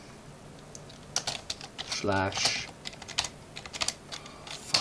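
Commands typed on a computer keyboard while setting up Backtrack from a live USB, giving rapid irregular close keystroke clicks throughout, with someone speaking briefly partway through.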